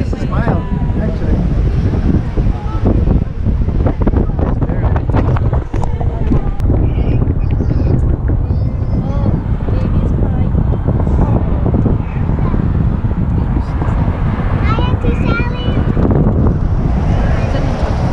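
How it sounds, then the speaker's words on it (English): Strong wind buffets the microphone on Oahu, Hawaii, a loud rumbling roar that gusts continuously throughout, with people talking under and through the blustery noise. "It's been windier."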